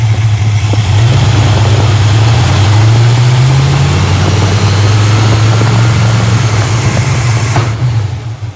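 A 1967 Imperial Le Baron V8 idles steadily and smoothly up close, a loud continuous low rumble with a slight rise in pitch midway, cutting off near the end.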